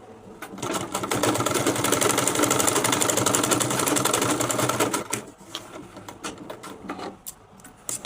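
Close and loud, a sewing machine stitches a cap in one sustained rapid mechanical chatter for about four seconds, then slows into scattered shorter bursts and clicks.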